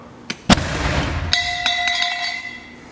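A sharp blast goes off close by, followed by a rumbling crackle and ringing tail that fades over a couple of seconds.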